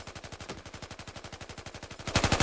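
Sustained automatic machine gun fire in Battlefield 4 hammers out a fast, even stream of close, punchy shots for the whole stretch, swelling louder near the end, with no talking.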